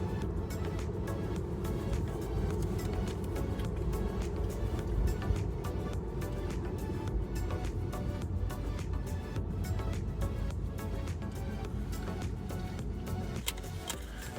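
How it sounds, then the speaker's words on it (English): Steady road rumble and passing traffic heard from inside a moving Tesla car, a continuous low drone lasting throughout with no one speaking. "As usual, traffic."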